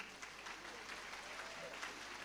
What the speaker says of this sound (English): Now let's give a special applause to WGS family